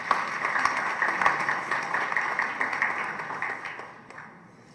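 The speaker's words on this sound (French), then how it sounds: "je vous prie de les applaudir" An audience applauding the jury members at a ceremony in Haiti, a sustained wash of clapping from many hands that holds steady for several seconds, then thins and fades away toward the end.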